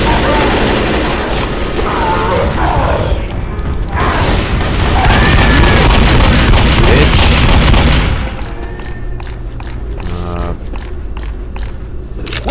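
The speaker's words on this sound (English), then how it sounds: "I'll show you the hunting rifle, but I will not aim down the sights." Hunting rifle gunshots in Left 4 Dead on Xbox 360: loud, dense rapid firing and booms for about eight seconds, then a run of separate sharp shots with mechanical clicks between them.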